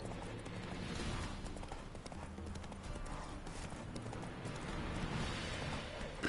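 Roach, the horse in The Witcher video game, trots with steady rhythmic hoof clip-clops on the ground, continuous and moderately close.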